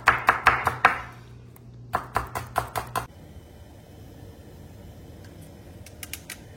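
Green chillies are chopped on a board with a knife, two quick bursts of sharp rhythmic thuds, each a run of about five chops, then near quiet with a few faint taps.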